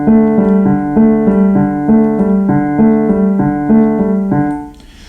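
Left-hand piano intro in 3/8 from a tune, a steady repeating pattern of three-note groups played solo and loud, stopping abruptly near the end.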